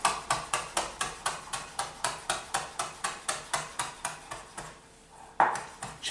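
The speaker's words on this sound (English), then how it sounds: "so I'm gonna chop them up first" A knife chops fresh basil leaves on a cutting board for avocado bruschetta: about fifteen crisp, evenly spaced strikes at a quick steady rhythm, close and distinct, then a short pause and one more chop.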